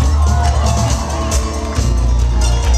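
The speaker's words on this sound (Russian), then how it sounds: "Под ваши бурные аплодисменты громче!" A crowd cheers and applauds loudly at an outdoor town-day concert in Kuvshinovo, with shouts and whoops rising over heavy, booming music.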